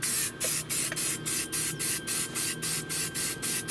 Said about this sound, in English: You have always loved spray painting.